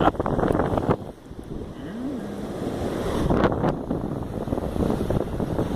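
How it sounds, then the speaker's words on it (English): Strong wind buffets the microphone at Wallasey Beach on the Wirral coast, a loud continuous roar with gusty swells and rumbling, with the surf faintly blended underneath and no talking. "very windy"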